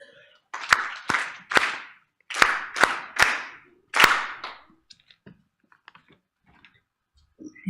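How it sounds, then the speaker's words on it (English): An audience at an Africa Public Service Day gathering performs a rhythmic welcome clap: several sharp, loud, synchronized bursts in a patterned beat, followed by near silence with a few faint knocks and rustles. "Let's welcome Ms. Nbe with the famous clap."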